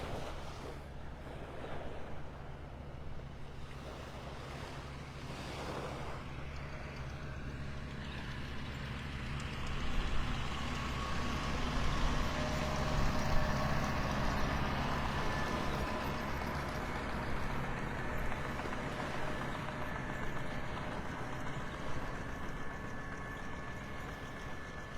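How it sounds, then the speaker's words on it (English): An old John Deere tractor rumbles along a Florida beach in North Naples, a low steady engine drone that swells closer midway, mixed with surf and gusting wind noise on the microphone. "I hear the old John Deere tractor sneaking up behind me"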